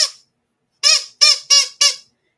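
A vintage squeaky toy doll gives five short, loud squeaks: one at the start, then four in a quick, even run after a brief pause, alone with no voices.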